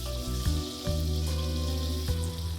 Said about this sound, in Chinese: 油热后下入豆腐